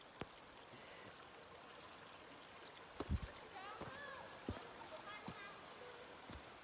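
A steady rush of water flowing from a pipe on a Mount Charleston hiking trail, with occasional splashes and knocks, a voice talking faintly over it.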